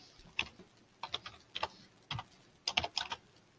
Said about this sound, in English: So I'm just going to pull up my graphing calculator. I'm going to type in this equation.